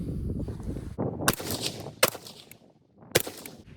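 A PSA JAKL rifle fires three sharp, loud shots at an outdoor range, spaced irregularly about a second apart, with a rumble of background noise before the first and quiet between the last two.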